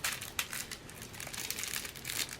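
Plastic bags are folded together up close. The crinkling is soft and irregular, with brief louder crackles throughout.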